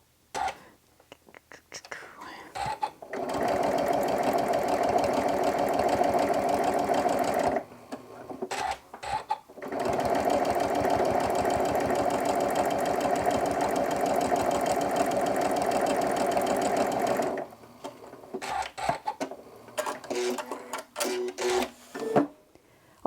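A sewing machine stitches a crumb fabric strip onto background fabric for a scrappy quilt block, running in two long steady bursts of rapid mechanical whirring separated by a brief pause, with lighter clicks and handling noises at the start and end.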